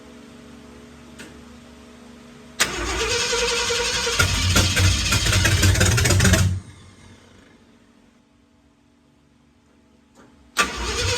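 A 1968 Ford F-100 pickup engine cranks briefly, catches and runs roughly for about four seconds before cutting out, loud and close, followed by quiet and a second burst of cranking at the end.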